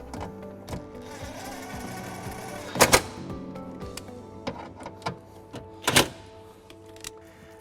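A 10mm socket tightens a ring terminal screw during trailer wiring harness installation on a 2019 Toyota Sienna, giving quick ratcheting clicks broken by two sharper, louder clacks, close up with no talking.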